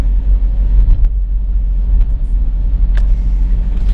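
A car drives along a road near the Jamal Garhi ruins in Mardan, heard from inside as a loud, steady low rumble with a few faint knocks and rattles. No one speaks.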